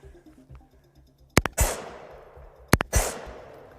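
Two short bursts of full-automatic rifle fire, each a rapid cluster of sharp reports, ring out loud and close with a decaying echo after each, separated by about a second of quiet.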